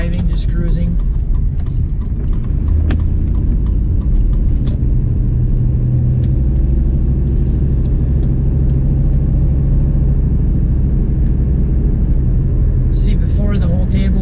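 A turbocharged LS-powered Cadillac Escalade cruising on the road, its engine a loud, steady low rumble with road and cabin noise throughout.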